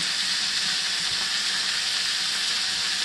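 Knoephla dumplings fry on high heat in a pan, giving a steady, loud, continuous sizzle and hiss with faint scraping from stirring throughout.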